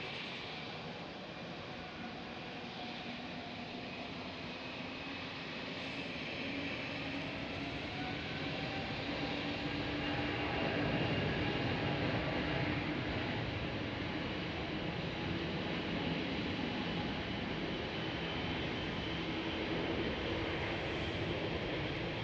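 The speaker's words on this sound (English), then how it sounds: "Delta Airlines A330 and 900." Delta Airlines Airbus A330-900 at Amsterdam Schiphol airport, a steady broad jet roar that swells toward the middle and stays loud and continuous, with no talk.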